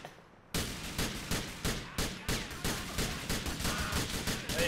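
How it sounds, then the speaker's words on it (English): Sustained gunfire in the GTA IV LCPD:FR police mod: a loud volley begins suddenly and continues as a rapid, evenly spaced string of close shots with no talk. "What the fuck are you shooting at?"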